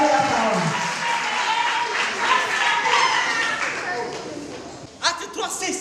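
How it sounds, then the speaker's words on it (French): A church congregation claps and cheers together in a large hall, a dense, steady wash of applause and crowd noise with voices mixed in, rising into sharper claps near the end. "Acclamez très fort le Seigneur."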